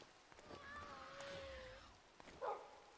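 Dog whimpering and crying in a Minecraft-style game, a thin drawn-out whine with a brief higher yelp near the end, faint and set against a soft background hum.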